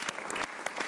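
A studio audience on a cricket talk show applauds in a brief, fairly quiet burst of clapping lasting about a second.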